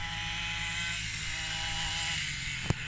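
A boy's 50cc mini moto engine runs in a steady, buzzing drone at moderate distance, holding an even pitch, with one brief sharp click near the end.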